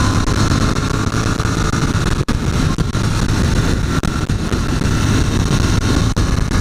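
A Royal Enfield Continental GT 650 motorcycle engine on a test ride, a loud, constant close-up drone mixed with wind rush, with a few brief dips.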